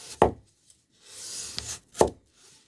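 A new Tanaka Japanese kitchen knife cutting through a potato on a board, with two crisp, close chopping thuds and a soft sliding rub between them, quiet and without talk.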